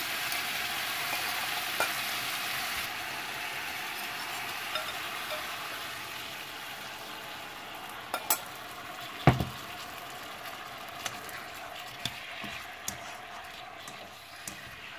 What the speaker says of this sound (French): Et vous allez renverser ce jus-là dans la poêle.